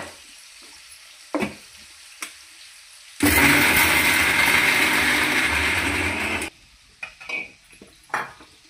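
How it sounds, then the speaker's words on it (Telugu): A mixer grinder whirs loudly for about three seconds as it grinds garlic cloves with salt, chili powder and turmeric, set between quieter kitchen knocks and clicks, with no talk. "ఇవన్నీ వేసుకొని ఇది మిక్సీ పట్టుకుందాం"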